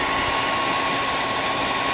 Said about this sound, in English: so it's a little noisy with my handy dandy speed dryer